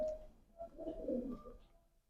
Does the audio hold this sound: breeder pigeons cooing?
yes